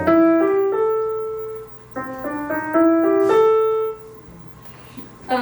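A piano plays a short phrase of blues-scale notes from Samuel Barber's Excursions, clear sustained tones with a brief pause near two seconds, then more notes ringing out before fading near the end.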